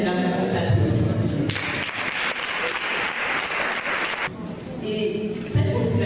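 Women at a rights day event applaud themselves: a burst of dense clapping from a seated audience swells in after a spoken line, holds for a few seconds, then gives way to talk again.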